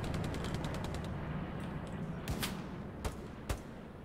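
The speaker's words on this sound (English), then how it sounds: "I can still hear shots." Gunfire in Hell Let Loose on the Sainte Marie Eglise map: a rapid burst of automatic fire at the start, then a few separate sharp cracks spaced out over a steady background rumble, all moderately distant.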